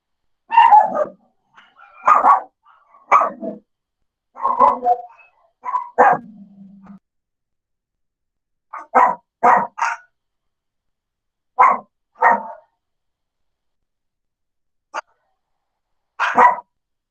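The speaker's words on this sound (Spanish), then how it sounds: "Vayan a ladrar al otro lado." Dogs bark in short separate bursts, about a dozen loud close barks spaced irregularly with silent gaps between them, some ending in a brief whine.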